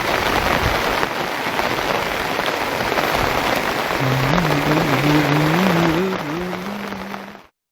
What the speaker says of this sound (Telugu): ఉమ్మడి నిజామాబాద్ జిల్లా వ్యాప్తంగా భారీగా వర్షాలు కురుస్తున్నాయి